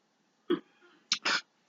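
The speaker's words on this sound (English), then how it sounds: "my roommate's out there just coughing his little head off" A roommate in another room coughs and clears his throat, one short rough burst followed by a quick double cough, muffled and fairly faint against quiet surroundings.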